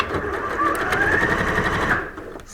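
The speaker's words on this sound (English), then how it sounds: "start stitching the cuff to the sleeve, making sure that these pleats don't become twisted" A sewing machine stitches a pleated cuff onto a sleeve, running in one steady, close whirr for about two seconds before slowing and stopping.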